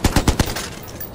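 Four quick, loud gunshot bursts in the video game Watch Dogs, evenly spaced in a rapid rhythm, then a fading echoing tail; close and punchy with no talking.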